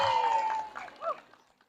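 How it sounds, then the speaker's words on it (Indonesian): Crowd applause at a neighborhood flag ceremony for Indonesian Independence Day, bursting loud at first and thinning to scattered claps within about a second, with a voice briefly audible over it. "Berikan tepuk tangan."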